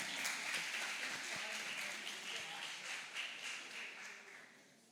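A lecture audience at a free course on leishmaniasis claps together, a soft, fairly distant patter that holds steady and then slowly thins out toward the end.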